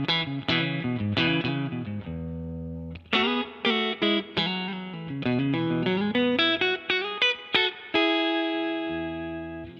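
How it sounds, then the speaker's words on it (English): Electric guitar through a Strymon Flint spring reverb pedal into a Vox V40 amp plays sustained chords and quick single-note runs, close and loud, each attack ringing with a springy reverb tail and no voices. "the Flint is an always-on thing for me. Always have a bit of spring reverb."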